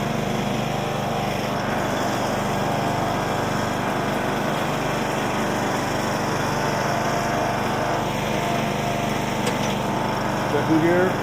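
A John Deere LA105 lawn tractor drives in first gear, its small engine holding a loud, steady, close droning hum with little change throughout.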